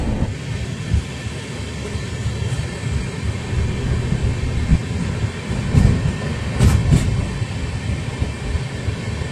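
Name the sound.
Darjeeling Mail train running, Sealdah to NJP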